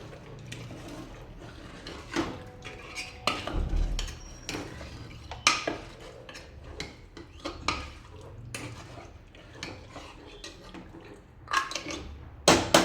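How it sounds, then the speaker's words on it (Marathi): Chicken being stirred into spice masala in a pan for a spicy Khandeshi-style curry, with repeated metallic scrapes and clanks of a spoon against the pan at an irregular rhythm, close and fairly loud, without talk. "अशा पद्धतीने मसाल्यात चिकन परतून घ्यायचे आहे"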